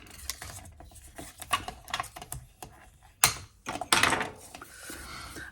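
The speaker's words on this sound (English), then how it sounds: "we're just going to fold that and burnish it" Paper being folded and firmly burnished for a snowflake topper on a tea light box, dry crisp rubbing and tapping strokes in irregular bursts, close and fairly quiet with no voice.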